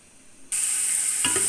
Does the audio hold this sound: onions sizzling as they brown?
yes